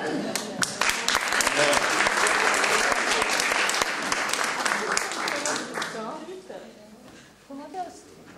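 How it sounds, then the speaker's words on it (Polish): Polish cabaret audience breaks into loud, dense applause for a fan called to the stage, a steady crowd roar of clapping that gradually thins and fades toward the end. "Brawa!"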